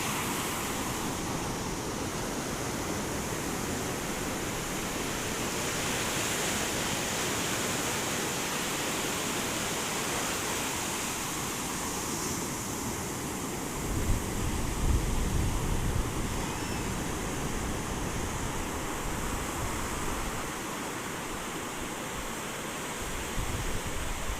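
Ocean waves roll onto Rishikonda beach in Visakhapatnam, a steady, loud wash of surf with wind in the background that carries on unbroken throughout.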